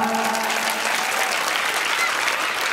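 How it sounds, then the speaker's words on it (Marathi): A school-event audience claps for the teachers who organised the programme: dense, continuous applause from a crowd that stays loud and even throughout. "आमच्या या शाळेतल्या कार्यक्रमाचं नियोजन करणाऱ्या सगळ्या मॅडमसाठी जोरदार टाळ्या"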